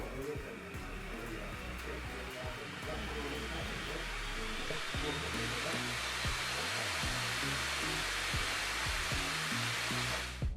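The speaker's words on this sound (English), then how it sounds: "If you want an idea of how the fans sound, here's a small sample of what to expect" Steady, loud whooshing fan noise from the cooling fans of a 2021 HP Omen 15 gaming laptop, a constant airy roar running without a break and with no talking.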